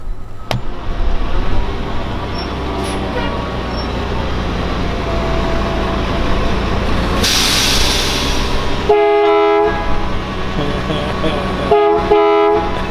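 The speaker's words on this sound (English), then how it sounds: "pulled my fist for him to honk a few times, and he was nice enough to do it" A waste and recycling truck at a recycling center sounds its air horn in a few loud, sustained honks near the listener, set against a steady rumbling engine background.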